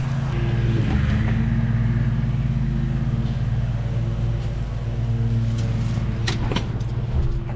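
A car engine is already running with a steady low idle rumble, and faint rattles and clicks sit on top of it. A weak battery was expected, but no struggling crank can be heard.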